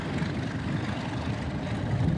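A McCormick Deering 1530 antique tractor at a parade of antique tractors and steam engines gives a steady, continuous low engine drone, fairly loud and constant throughout, with no talking.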